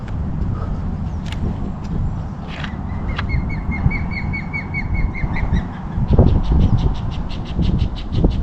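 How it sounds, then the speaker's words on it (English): A juvenile eagle calls near its nest on a lake with a run of repeated high, thin chirping notes that grow steadier toward the end, heard at a distance over rumbling wind and outdoor noise. "It's like a juvenile eagle."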